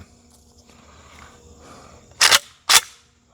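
Two sharp, loud gunshots from an M70 rifle fitted with a slant muzzle brake, firing old Russian hollow point ammunition, ring out in quick succession against a quiet outdoor background.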